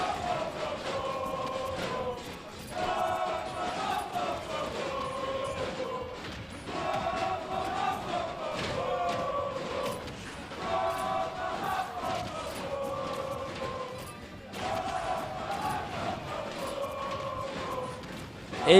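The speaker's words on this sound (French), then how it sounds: "il est très en place ce Rob sous les acclamations, sous les encouragements des Lillois pour Mister Popo évidemment" Crowd at a Super Smash Bros. Ultimate tournament in Lille cheering and chanting in rhythmic waves of voices, loud and sustained, rising and falling in repeated rallying bursts throughout.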